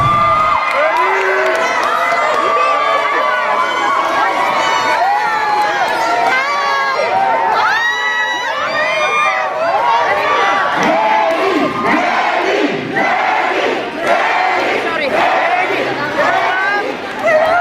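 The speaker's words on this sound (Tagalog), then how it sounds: "Palakpakan at hiyawan ang isinalubong ng mga kakamping kay Vice President at Presidential Aspirant Leni Robredo" Crowd of supporters cheering, shouting and clapping to welcome Vice President and presidential aspirant Leni Robredo on a campaign visit in Baguio City, a loud, dense and continuous roar of voices with rising bursts of shouts throughout.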